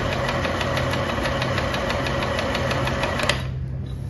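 A Yume sewing machine with a pole sound issue stitches in a fast, even mechanical rattle with regular beats. It runs loud and steady, then stops abruptly near the end.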